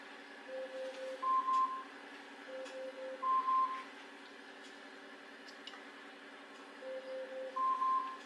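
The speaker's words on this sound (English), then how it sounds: "Computer, cancel timer." Kitchen timer beeping in three short bursts of high electronic pips, each a quick double-tone pattern, spaced a few seconds apart against quiet room background.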